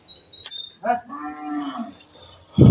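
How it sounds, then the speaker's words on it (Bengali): A Sahiwal cow lets out one long, close, deep moo, with a short bovine grunt just before it. "শুরুতে যেটা দেখানো হচ্ছে এটা মূলত একটা শাহিয়াল গরু"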